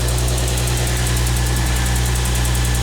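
An Infiniti G35 engine idles close by with a steady, even hum and faint rhythmic ticking throughout, no voices.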